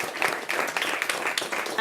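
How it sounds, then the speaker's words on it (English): An audience at a community gathering on coming together across differences applauds in a continuous round of clapping, moderately quiet and slightly distant, with dense overlapping claps throughout. "She deserves another big round of applause."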